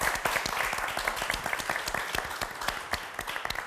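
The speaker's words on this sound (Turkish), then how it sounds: "Bir alkışı daha hak etmiştir." A TV quiz show studio audience applauds in a steady burst of many hands clapping, sustained and fairly close for several seconds.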